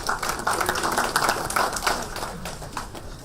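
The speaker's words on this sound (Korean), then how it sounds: "여러분 감사의 박수로 대신해 주시기 바랍니다" Audience members at a political party caucus meeting clap together in a dense, steady round of applause that fades slightly toward the end.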